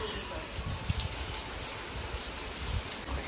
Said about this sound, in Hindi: तो बारिश आ रही है